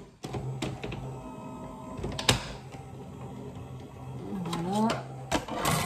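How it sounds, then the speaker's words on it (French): Electric Big Shot die-cutting machine whirring and grinding as it feeds material through, with clicks and knocks at the start and end, and a person speaking briefly over it. "Alors moi j'ai la Big Shot électrique."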